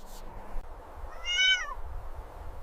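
A single distressed meow from an injured mother cat trapped out on open steppe, faint and fairly distant against a low rumbling background.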